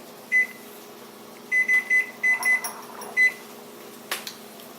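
Kitchen timer set for five minutes while cooking a poached egg in fresh pasta carbonara: a series of short, clear electronic beeps, one then a quick cluster of several, then another, fairly close over faint room hum.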